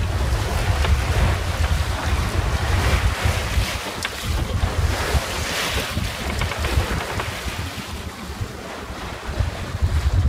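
A small trailer sailboat running fast at sea, single-handed, with steady loud wind and wave wash and gusty wind buffeting on the microphone, continuous and close throughout with no voices.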